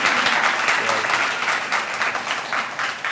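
Audience applause at a college trunk giveaway event, a dense, steady burst of clapping from a seated crowd that holds for about three seconds without talk over it.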